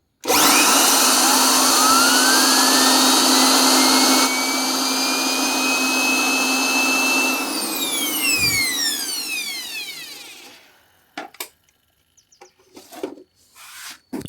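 A new Holset H1C turbocharger on a four-cylinder tractor engine gives a loud, steady whine with a rising whistle, then spools down in sweeping falling tones that fade into near-silence and a few faint knocks.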